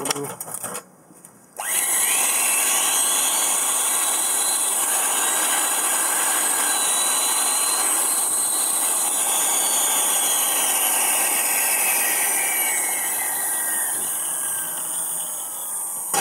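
After a brief pause, a Japanese-market 100V electric hand drill whines steadily at high speed for a long stretch, loud and close, its pitch drifting slightly.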